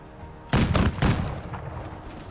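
Gunfire in the video game Menace: a quick burst of several loud, close shots followed by a decaying rumble, with no talk over it.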